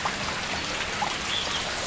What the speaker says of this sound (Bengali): এই কালির জলগুলো এখন আর কি মানে টপ টপ করে বৃষ্টির জলের মতো পড়ছে।